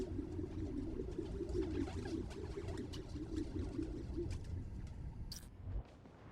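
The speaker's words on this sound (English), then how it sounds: "There's a lot of birds around here." Pigeons coo steadily amid bird chirps in a city ambience in Marvel's Spider-Man: Miles Morales, a continuous low warbling cooing for several seconds with occasional brief sharp calls.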